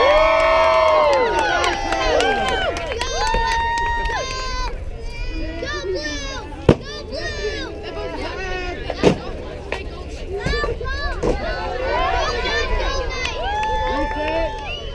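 A crowd at a Renaissance fair SCA fight demonstration cheers and whoops with many overlapping shouts, including children's voices. The noise is loud and continuous, with a couple of sharp impacts and people talking throughout.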